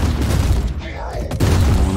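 Gunfire in Warhammer 40,000: Inquisitor - Martyr comes as dense, booming shots, loud and close, over a constant din of battle.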